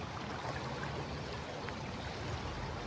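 Stream water rushes steadily through an arroyo at Axtla de Terrazas, a faint, even wash of flowing water with no voices heard.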